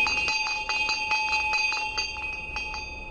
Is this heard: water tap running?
no